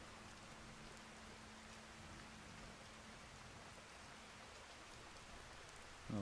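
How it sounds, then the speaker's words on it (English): Rain falling in the video game Skyrim, a steady faint hiss of drops with no break throughout, with a short thump at the end. "it's raining"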